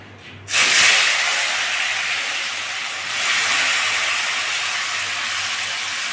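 Bitter gourd dropped into hot oil for a fried bitter gourd dish with onion, a sudden loud hiss that settles into a steady, close sizzle, with no talk.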